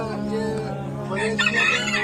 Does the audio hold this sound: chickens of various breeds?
yes